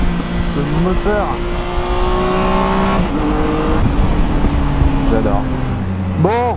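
A Triumph Tiger 1200 Alpine motorcycle engine roars loudly and continuously at high revs, rising and falling in pitch as it accelerates and shifts, with a voice talking over it.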